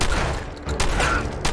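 Loud shotgun blasts in the video game Fallout 4, two or three heavy booming shots in quick succession close up.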